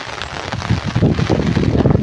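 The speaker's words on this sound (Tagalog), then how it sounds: "Lakas ng ulan." Heavy rain pouring over rice paddies in the Philippine countryside, a dense continuous hiss and rumble of downpour that swells slightly as it goes, loud and close.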